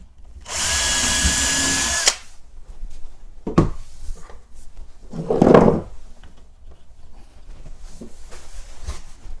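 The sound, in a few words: drilling pilot hole with small drill bit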